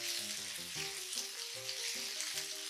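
Tomato puree sizzling in a hot frying pan while pasta sauce is made, a steady bright crackle that continues without a break beneath melodic background music.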